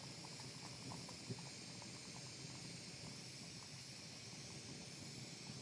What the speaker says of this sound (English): Little sizzle right there.